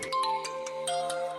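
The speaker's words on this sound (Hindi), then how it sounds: "सजाद जी का फोन है" A phone rings indoors with a repeating electronic ringtone, a string of bright tonal pulses over a steady hum, clear and close with no voices.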